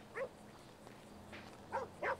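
A dog in the Grand Theft Auto V video game barks at a motorcyclist, giving a few short, mid-distance barks spaced irregularly over a low steady background hum.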